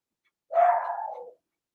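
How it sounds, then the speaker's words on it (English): A single dog's bark, loud and near, drawn out into a brief whining tail, alone with no speech over it. "again, I apologize for the dog barking"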